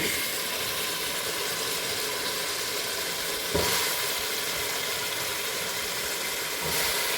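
Potatoes and eggplant frying together in a pan for a spicy curry, giving a steady, close broadband sizzle that holds even throughout, with a brief stir or clatter midway and no talking.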